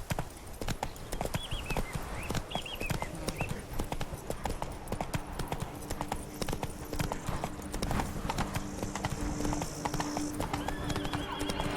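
Horse galloping in The Witcher 3: Blood and Wine in the Duchy of Toussaint, with a dense, fast clip-clop of hooves, close and continuous, alongside brief whinnies and game ambience.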